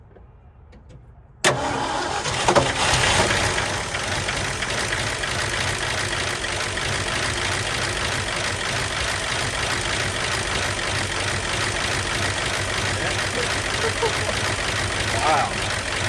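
A truck found at a dump cranks and fires up after a quiet moment. Its engine then settles into a steady, fairly loud idle, with a voice heard over it.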